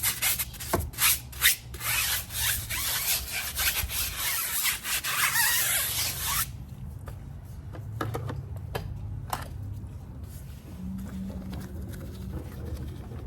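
A stiff tire brush scrubs a car tire with loud, close, rasping strokes in an unbroken stretch, then the scrubbing drops to quieter, scattered scratches.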